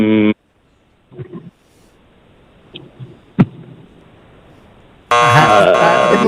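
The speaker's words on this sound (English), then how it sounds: "Give him a buzzer." A harsh electronic game show buzzer sounds loudly twice, first in a brief blast and later in a longer one, with a few faint knocks and rustles in the near-silence between.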